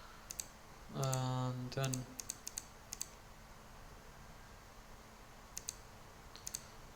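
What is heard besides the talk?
typing on a computer keyboard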